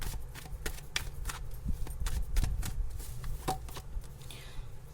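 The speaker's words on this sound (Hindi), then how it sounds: "चलिए और कुछ कार्ड्स निकाल देते हैं।" Tarot cards are shuffled and drawn close by, with a continuous soft riffling and flicking patter of card edges, steady and moderately loud, without voices.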